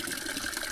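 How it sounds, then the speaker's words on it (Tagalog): Strong spring water from the mountains gushes out of an outdoor tap in the countryside, a steady, close, broadband rush with no break for the whole brief moment. "itong gripo na ito ay lakas ng tubig nito galing sa bundok"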